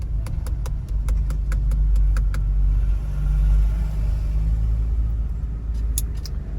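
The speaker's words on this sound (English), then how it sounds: "A lot of traffic on the road" Steady road traffic in Montego Bay, Jamaica, with taxis among the cars: a continuous low engine rumble close by, vehicles passing without pause, and a few faint high ticks and clicks over the drone.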